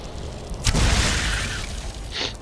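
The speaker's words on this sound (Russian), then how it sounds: "Но все равно оно взрывается." Explosion in Skyrim: a sudden deep boom bursts in after a moment of quiet, rumbles and decays over about a second, then a shorter crackling burst follows near the end.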